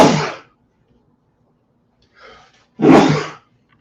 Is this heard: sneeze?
yes